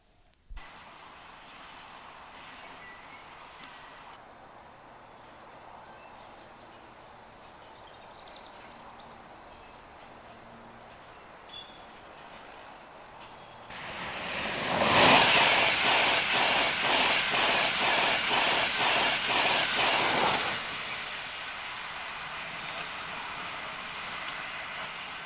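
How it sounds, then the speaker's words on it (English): An EWS Class 66 diesel locomotive backs a freight train with a brake van leading up a one-mile colliery branch, a faint distant rumble swelling into loud rolling wagon noise with rhythmic clatter before easing off. "The EWS Class 66 locomotive backs the train, the brake van leading, all the way up the 1 mile branch to the colliery loading pad"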